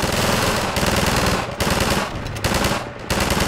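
Sustained, loud automatic gunfire from the video game Half-Life 2, with rapid continuous bursts separated by brief pauses and no voices.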